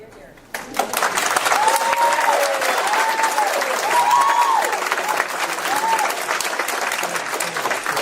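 After a brief lull, audience applause breaks out at a congressional district debate and carries on steadily, with cheering voices rising above the clapping.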